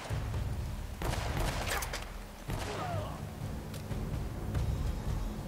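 Gunfire in Uncharted: Drake's Fortune, played on PS4, comes as steady, dense bursts that keep going over a constant loud background din.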